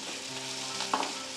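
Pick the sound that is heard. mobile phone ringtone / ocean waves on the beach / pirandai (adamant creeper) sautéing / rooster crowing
pirandai (adamant creeper) sautéing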